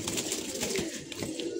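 Pigeons kept by a collector coo softly in a short run of repeated throaty calls, close by and clear.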